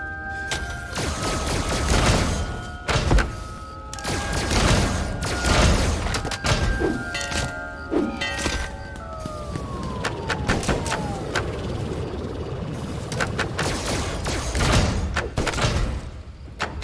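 Rapid bursts of gunfire and booms from the VR horror game Five Nights at Freddy's: Help Wanted, loud and dense over a droning, falling tone, with no talking.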